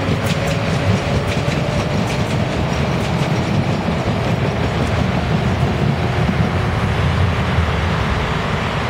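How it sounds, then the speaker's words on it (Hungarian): A Ráckeve HÉV suburban train passes at Soroksár, a loud, steady rumble with clickety-clack wheel beats running throughout without any talk. "a ráckevei hév fog elhaladni mellettem itt Soroksáron"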